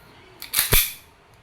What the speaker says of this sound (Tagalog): Hi Kappa T-Rex, this is airsoft pistol. Okay? Okay, testing.